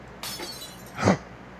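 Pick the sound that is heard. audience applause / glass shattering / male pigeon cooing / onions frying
glass shattering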